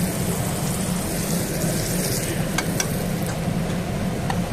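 Unpeeled garlic cloves frying in hot oil, a steady close sizzle with scattered crackles and ticking pops over a low hum.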